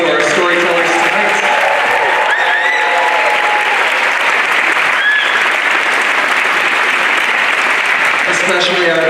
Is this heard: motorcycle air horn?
no